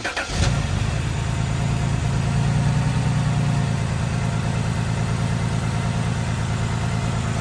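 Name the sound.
BMW 128i N52 3.0L engine starting and idling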